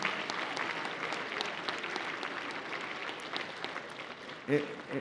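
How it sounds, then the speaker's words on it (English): Student audience at a talk with a lieutenant governor gives a round of applause, a fairly faint, steady wash of clapping from the crowd heard at a distance for several seconds. "You guys, give yourselves a round of applause."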